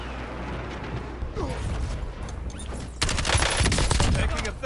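Black Ops 6 Warzone gunfire: sustained automatic bursts and crackling shots, loud and close, growing denser and louder in the second half, with game mechanism clatter mixed in.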